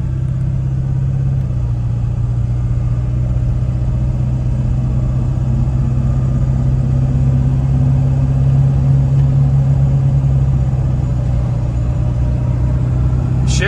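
A 2001 Ford Excursion Limited with the 7.3L Powerstroke diesel and 4WD drives along, giving a loud, steady, close engine drone and low rumble throughout; distinct gear shifts are not clearly marked.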